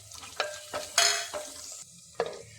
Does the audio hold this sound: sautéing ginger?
yes